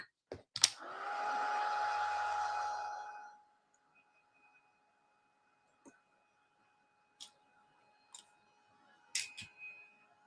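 Hair dryer blowing on wet watercolor paint, switched on for roughly three seconds after a couple of sharp clicks, then off, followed by faint scattered taps and handling noises in a quiet room.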